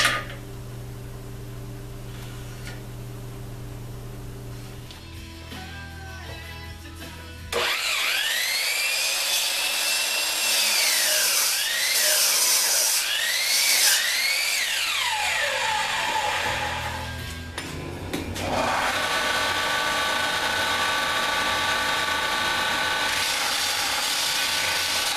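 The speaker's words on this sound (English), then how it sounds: "just got done cutting off this block" Saw cutting through a 1x2 block of solid aluminum, loud and continuous with shifting whining and scraping tones, pausing briefly midway before cutting resumes, close up with no talk.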